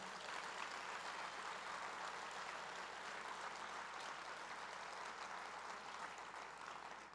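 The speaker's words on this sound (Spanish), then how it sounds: "Denle un fuerte aplauso al Señor." A church congregation applauds during a Spanish-language service, a faint, dense and steady wash of clapping from a distant crowd that keeps up throughout before easing slightly at the end.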